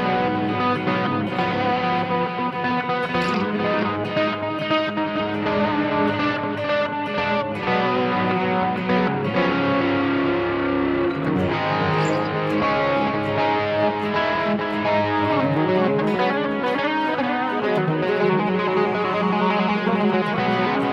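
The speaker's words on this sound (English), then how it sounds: "A stereo mode chorus, in my case, it's ST2, so we use stereo chorus." Electric guitar in a heavy 80s metal tone through a Boss eBand JS-10 stereo chorus set to ST2, rate 30, depth 60, level 55; sustained distorted chords and riffs play loud and continuous throughout, with no talking.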